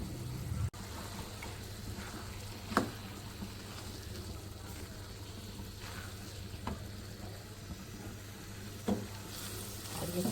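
Hara masala keema with garam masala sizzles steadily in a pan, a soft continuous frying hiss broken by a few spoon scrapes and taps as it is stirred.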